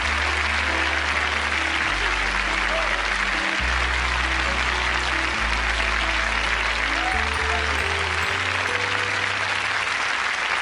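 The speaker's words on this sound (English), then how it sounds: "Let's give Mrs. Rosa Parks a round of applause" Sustained, dense applause from an audience honoring Rosa Parks at a public gathering, steady and loud for the whole stretch with low held tones humming underneath and no talk.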